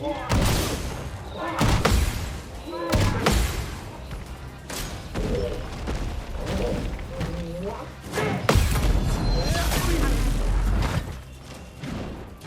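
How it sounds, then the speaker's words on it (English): A cannon fires during combat in the video game Clair Obscur: Expedition 33, giving heavy booming thuds and slams amid dense battle noise and whooshes, loud and close, with a voice talking at times. "Fires its cannon."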